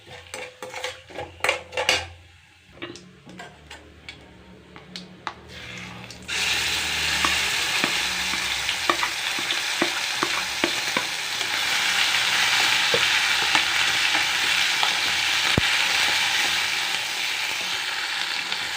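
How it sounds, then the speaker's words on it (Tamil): Cumin and ground paste fry in oil in a pan, starting with a few clanks and taps of utensils, then a loud, steady sizzle with stirring scrapes and metal clinks. "ஸோ இதனால் நம்ம வதக்கலாம் எண்ணெயில்."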